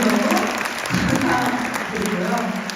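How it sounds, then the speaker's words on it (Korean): Brief audience applause during a talk, a steady wash of clapping heard under a speaking voice. "마지막으로 박수 감사합니다"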